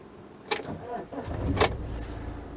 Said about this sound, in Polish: ja odpalę ten samochód